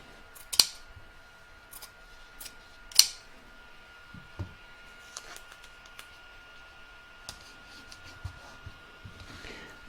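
Scissors trimming the edge of fabric laid over an in-the-hoop embroidery letter, a few distinct crisp snips spread out among quieter small clicks and rustles.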